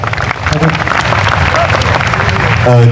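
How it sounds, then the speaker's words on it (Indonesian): Clapping from a crowd applauding Sabrang at a gathering with a host, loud and sustained throughout, with a voice and some tonal sound breaking in near the end. "Turun tepuk tangan buat Sabrang ini"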